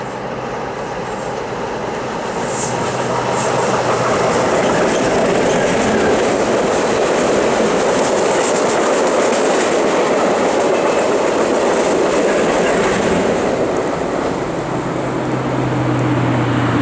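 A train rumbles steadily past close by at night west of Downey, Iowa, wheels clattering over the rails in a continuous loud roar.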